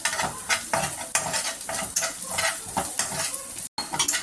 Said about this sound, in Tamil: கொஞ்சோண்டு கரம் மசாலா, ஒரு பிஞ்சு பெப்பர் போட்டுட்டு மிக்ஸ் பண்ணி விட்டுக்கலாம்.